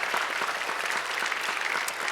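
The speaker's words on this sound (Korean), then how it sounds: "박수해 주세요" A church congregation applauds in steady, continuous clapping, soft and slightly distant, a warm even patter with no voices standing out.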